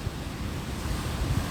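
Strong sea waves break on a Kaliningrad beach, a steady, loud rolling roar of surf with gusty wind buffeting the microphone throughout.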